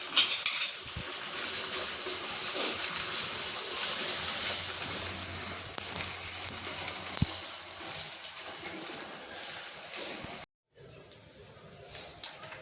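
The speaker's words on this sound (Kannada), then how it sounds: "ಆಮ್ಲೆಟ್ ಹಾಕಕತ್ತ ನೋಡಿ" Country eggs are made into an omelette in a pan, with steady clinking and scraping of metal utensils, light sizzling and stirring going on continuously at close range.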